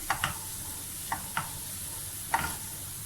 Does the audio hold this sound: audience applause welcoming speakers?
no